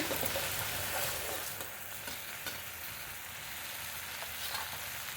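Spices and brinjal pieces fry in a pan with a constant hissing sizzle, and occasional stirring scrapes break through the close, even noise.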